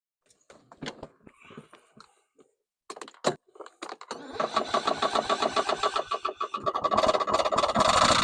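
A lawn mower engine being fixed for resale cranks with a few short clicks and whirrs, then catches and runs with a loud, rapid, rough chugging that grows steadier.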